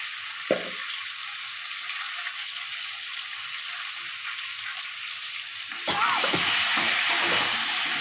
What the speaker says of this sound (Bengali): লবণ আর হলুদ দিয়ে একটু ভাজবো।